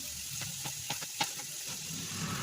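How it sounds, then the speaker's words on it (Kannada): Coconut-filled karjikai pastries deep-frying in hot oil give a steady, quiet sizzle with a few soft pops and crackles, close by and alone. "ಈಗ ಕರಿತಾ ಇದ್ದೀನಿ"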